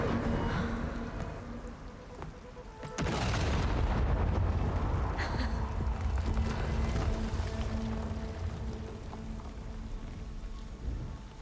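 Explosives detonating in Horizon Forbidden West: a sudden heavy blast around the middle that swells into a long, loud rumbling roar, with crackling debris over continuous game noise.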